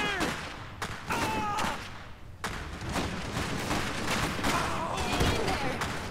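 Sporadic gunfire and thumping impacts crackle through a battle in the strategy game Iron Harvest, with sharp shots scattered across the scene while voices speak over the combat.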